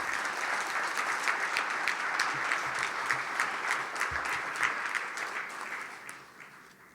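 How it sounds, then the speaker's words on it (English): Warm applause from an audience at a Veterans Day ceremony held by the Department of Housing and Urban Development, steady clapping from many hands that keeps on evenly before slowly tapering off, with no voices over it. "So let's give them a warm round of applause at this time."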